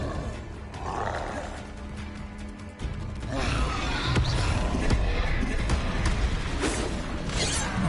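A fire spell is cast in Hogwarts Legacy: a sharp whoosh and crackling burst arrives a few seconds in, followed by sustained roaring flame with scattered impacts, fairly loud over a busy game soundscape.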